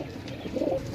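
A pigeon gives a short, low coo close by, one brief throaty call over faint background noise.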